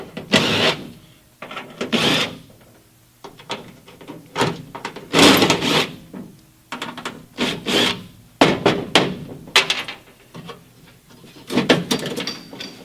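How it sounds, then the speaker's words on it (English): Four screws are worked loose from the door window channel of an International Scout II, giving repeated rasping, scraping tool strokes in irregular bursts, close and fairly loud. "So we need to take these 4 screws loose."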